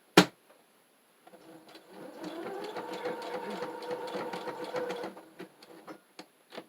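A sewing machine stitches fabric for a fabric junk journal in one steady, fairly quiet run of about four seconds, followed by a few light mechanical clicks and taps.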